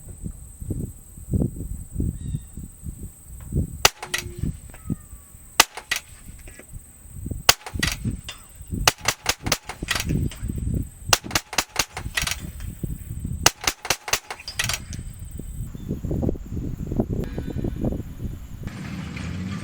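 A battery-powered gun built for speed-shooting challenges fires at 130 yards, sharp cracks coming singly and in quick bursts separated by quieter pauses and low background rumble.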